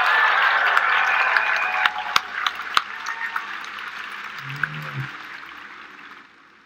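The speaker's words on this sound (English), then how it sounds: "a big round of applause for our panelists" Applause from the audience at a QuakeCon Fallout 76 panel, a dense wash of clapping with sharp individual claps, loud at first and slowly tapering off over several seconds.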